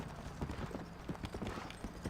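Hooves clip-clop in a fast, steady rhythm as a horse is ridden in a video game, a constant trot of close, even strikes over a dense low background.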